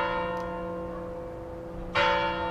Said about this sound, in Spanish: Es una campana romana,